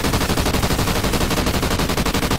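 Rapid continuous automatic gunfire in Call of Duty Ghosts Extinction, loud and dense, with shots rattling in a steady fast rhythm throughout and no talk over it.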